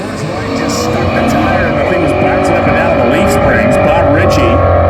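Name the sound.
NASCAR-engined Plymouth Duster drag racing pass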